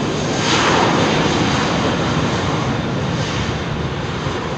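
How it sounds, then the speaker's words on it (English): Icelandair Boeing 757 jet taxiing at London Heathrow, a loud, steady engine roar close by that holds evenly throughout with no pauses. "Iceland Air 757 taxiing out"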